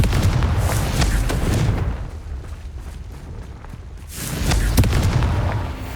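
Two heavy fire-blast spell explosions erupt in a fantasy video game, each a loud booming burst with a crackling tail, separated by a quieter lull of about two seconds.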